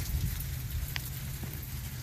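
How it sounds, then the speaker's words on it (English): Heavy rain pours during an Oklahoma thunderstorm, a loud, continuous hiss of drops with a low rumbling undertone and no pauses. "And now it's nothing but rain."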